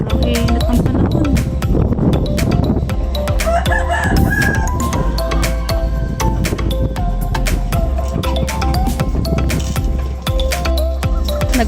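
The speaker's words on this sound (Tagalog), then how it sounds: "Nagpapakain na po si Ian ng kanyang mga manok." A rooster crows amid a flock of clucking chickens at feeding time, loud and close, with continuous overlapping calls and scratching, no talk standing out.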